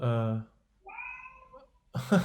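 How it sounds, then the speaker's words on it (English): A cat meows loudly nearby, then gives a shorter, softer second meow before a person starts talking. "It's your cat."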